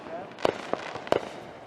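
Fireworks burst nearby in a few sharp cracking pops spaced apart, over a low background murmur.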